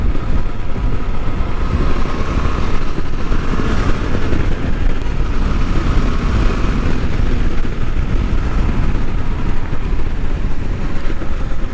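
A KTM Adventure 390 motorcycle rides at speed on the road while overtaking, its engine drone buried in heavy, constant wind roar across the microphone, loud and unbroken throughout.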